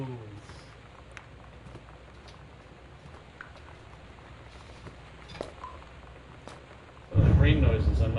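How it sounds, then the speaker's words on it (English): Soft steady rain patters quietly with scattered drips, then a loud low rumble of thunder rolls in near the end. "There's a big thunderstorm going on out here."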